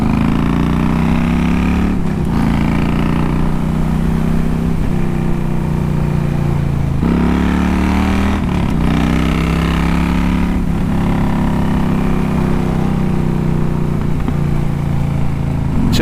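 A loud motorcycle engine, an M bike, drones close by while riding among cars at a car show, with the pitch dropping and climbing again at several gear shifts and no talking.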